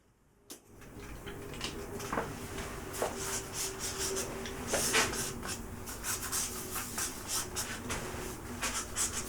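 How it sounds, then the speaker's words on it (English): Markers drawing roughly on paper, close, soft scratchy strokes in a steady, repeating rhythm of quiet swishes, without talk, after a brief faint start. "so we're just going to be very rough with the drawing"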